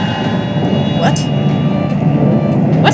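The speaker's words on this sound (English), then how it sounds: "The train's in the real world now?" A train in the video game Alice: Madness Returns makes a steady, loud, low rumble that runs the whole way through, with a couple of brief higher swishes. A voice speaks over it.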